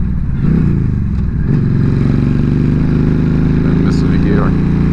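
Yamaha V-Star 1300 cruiser, a 2007 model, riding along with a steady loud engine drone and a brief dip as a gear is missed, with wind noise and some talking over the top.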